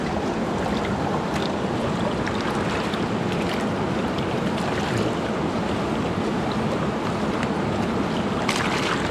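Stream water diverted for gold panning runs in a steady, dense rush close by, with a hissy, wind-like texture and no pauses across the whole stretch.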